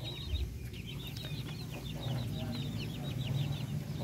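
Native Darag chickens clucking on a farm, a quick run of repeated soft clucks over a low steady background hum, fairly close and continuous.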